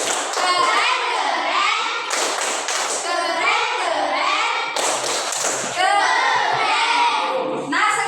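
Indonesian classroom group performs a rhythmic patterned clap cheer during a religious studies lesson, with children's voices and chanting mixed in; claps come in bursts with short pauses, close and loud throughout.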